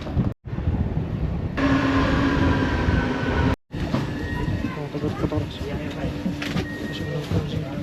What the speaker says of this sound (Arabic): فقاعد انتظر القطار يجي بعد 4 دقائق او 5.